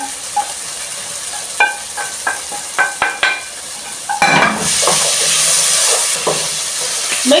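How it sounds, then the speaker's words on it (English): Boiled beef being stirred into a pan of tender cooked cabbage: a series of distinct scraping and clinking strokes of a utensil, followed by a louder burst of hissing sizzle that continues with further stirring. "So we mix the beef now."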